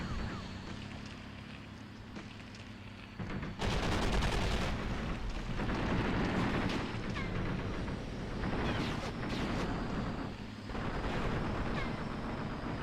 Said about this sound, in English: There's the tank in the distance, causing us some trouble, but it's only shooting at infantry with its cannon